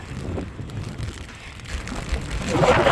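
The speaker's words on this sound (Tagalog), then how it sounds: "sobrang mahangin. Ulan kasi." Gusty wind buffets the microphone while rain patters steadily, the noise swelling louder toward the end.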